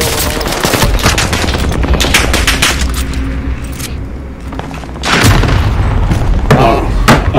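A rocket launcher explosion in a video game lands as a heavy boom partway through, amid a steady stream of nearby gunfire and scattered impacts.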